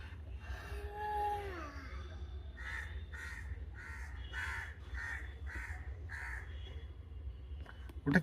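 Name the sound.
bird calling, a crow cawing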